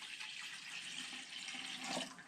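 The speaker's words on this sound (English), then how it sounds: "you could dump that 2 cups of water in there" Two cups of water poured in one go while making homemade dehydrated apple chips, a steady rushing splash lasting a couple of seconds and swelling slightly near the end, close and alone without talk.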